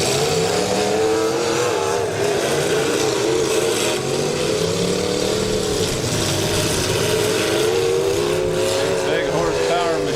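Race cars roaring around the track at a county derby in Athens County, engines droning and revving continuously at a distance under an announcer's commentary.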